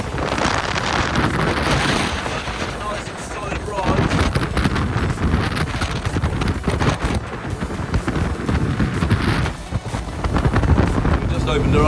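A Jeanneau Merry Fisher 1295 motor boat runs at about 32 knots on autopilot near Dartmouth. Its loud, steady engine and hull roar is buffeted by wind, and a voice can be heard at times.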